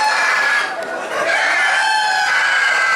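A Filipino rooster crows loudly and continuously close by at a chicken market in Toraja, its drawn-out harmonic call filling the whole moment against steady background noise.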